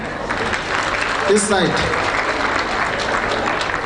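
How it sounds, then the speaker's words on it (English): An audience at a World AIDS Day launch event breaks into steady applause, with a voice talking briefly over the clapping. "Can we clap hands for her?"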